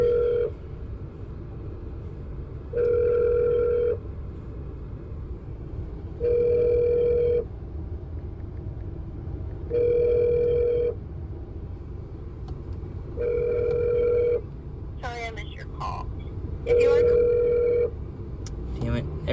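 A phone rings with an incoming call inside a 2008 Suzuki Forenza, sounding as six evenly spaced electronic tone bursts about three seconds apart over low cabin hum, while someone talks briefly near the end.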